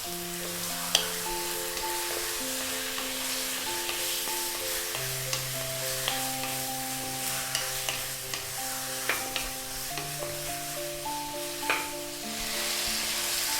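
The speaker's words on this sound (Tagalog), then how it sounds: "ipa-pan fry ko po yung ating chicken. Hihintayin ko lang mag-brown mga gilid niya." Chicken pieces pan-frying for adobo, browning at the edges in their own rendered fat, a continuous sizzle and hiss with occasional sharp pops and spatters over a steady backing melody.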